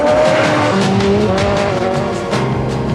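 A Peugeot 406 saloon is driven hard on the road, its engine note rising and shifting through gears with tyre noise, loud and close throughout with no talk.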